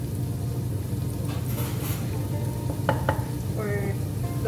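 Onion and garlic frying in a pan for risotto, a constant close sizzle with a few light clinks of a utensil.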